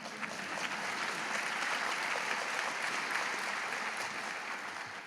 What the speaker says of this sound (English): I recognize that applause is for Joan